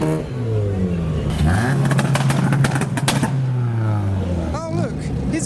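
Modified car with a flame-shooting exhaust revs and crackles near a crowd of Mustangs, the engine note rising and falling under excited voices and a cheering crowd.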